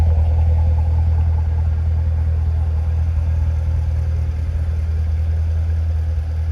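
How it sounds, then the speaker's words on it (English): A red 2015 Chevrolet Corvette Stingray Convertible Z51 2LT with a 7-speed idles nearby, its exhaust giving a steady, deep, loud rumble with no talk over it. "Nice rumble to the exhaust."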